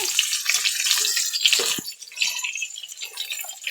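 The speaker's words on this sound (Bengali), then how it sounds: "তেল গরম হয়ে গেছে, আমি দিয়ে দিব সাদা জিরে। দিয়ে দিব আমি পেঁয়াজ কুচি।" Cumin seeds and chopped onion hitting hot oil in a home kitchen pan, giving a bright, crackling sizzle with spattering pops and irregular bursts, close and fairly loud, with no talk over it.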